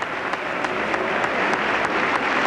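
Applause from the audience at the 1992 State of the Union address, a steady broadband wash of many hands clapping that holds at even loudness and sounds fairly distant, with no talk over it.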